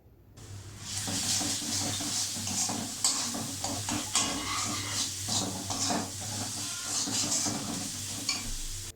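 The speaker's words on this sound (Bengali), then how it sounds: "এবার ভালোভাবে আমি কষিয়ে নেব" Turmeric, Kashmiri chilli powder and salt being stirred and sautéed in a pan for a stingray fish curry, a continuous close sizzle with scraping spoon strokes throughout, no voices.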